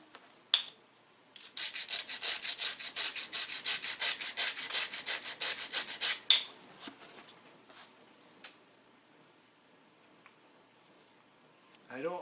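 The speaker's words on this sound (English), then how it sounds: "gotta grind again" Grinding the edge of a dacite stone point, a fast run of rhythmic scraping rasps, close and fairly loud for several seconds, then stops, followed by a few faint taps and quiet handling.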